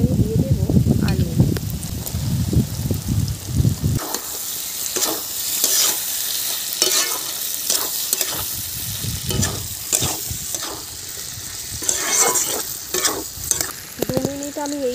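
Potatoes fry and are stirred in a spiced masala in a pan, a loud close sizzle with repeated scraping strokes of a spatula, and a voice heard briefly at the start and intermittently over the frying.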